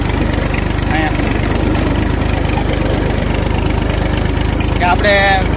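A tractor engine runs steadily while ploughing a field, a loud, even mid-pitched chugging drone close by. A voice speaks briefly over it near the start and again at the end.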